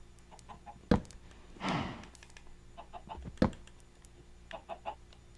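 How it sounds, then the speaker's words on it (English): Minecraft chickens in a hardcore survival game give short soft clucks scattered through the scene, punctuated by a couple of sharp thunks and a brief whooshing rustle. "I'm hoping no chickens can escape through that."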